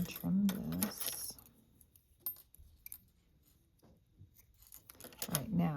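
Scissors trimming a knitting yarn tail on a baby knit hat, with a few close metallic snips and handling rustles as a person talks at the start and end.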